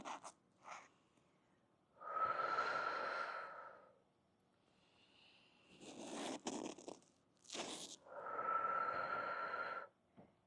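Slow, deliberate breaths during a Pilates core and pelvic floor session with a ball, with long airy exhales and shorter inhales plus a few rustles and clicks in between, close and fairly quiet.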